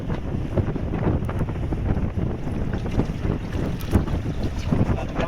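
Strong wind blowing outdoors during open-air cooking, a continuous loud rumbling roar buffeting the microphone with gusty swells throughout.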